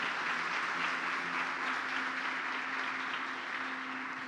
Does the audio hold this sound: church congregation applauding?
yes